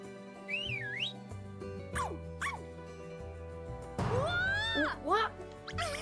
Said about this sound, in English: Try whistling for it to come.